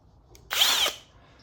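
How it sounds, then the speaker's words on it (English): A handheld power drill whirs in one short, close burst of under half a second, spinning up and winding down against a quiet background. "Hey, you always need your drill."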